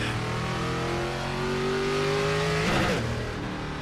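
A race car engine in the iRacing video game revs steadily with rising pitch, then roars sharply louder for a moment before settling back to a steady drone.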